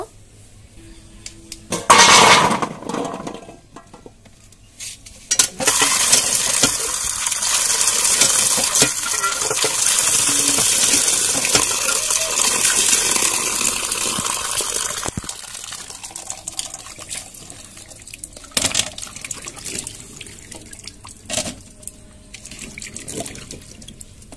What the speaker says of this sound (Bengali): আমি এখানে জলপাইগুলো ধুয়ে নিব